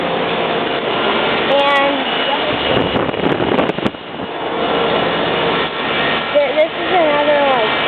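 Outdoor Trane and American Standard air conditioner units running at a golf center, a steady broadband fan whoosh and hum close to the microphone while a person speaks briefly over it.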